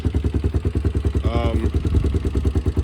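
A 1992 Honda XLR Baja motorcycle engine idles nearby after a tune-up, with a steady, rhythmic chugging pulse, and a brief whine rises over it midway.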